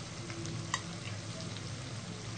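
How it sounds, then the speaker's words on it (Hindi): Masala for achar gosht fries quietly in a pan, a soft steady sizzle with faint stirring and a single small tick. "मसाले को हम 3 से 4 मिनट अच्छे तरीके से भूनेंगे।"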